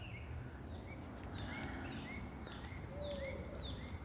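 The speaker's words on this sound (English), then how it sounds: "There's owls hooting, and there's birds chirping." Birds chirp and call repeatedly outdoors in nature, with descending whistled notes over steady background ambience; a faint low hoot suggests owls hooting in the distance.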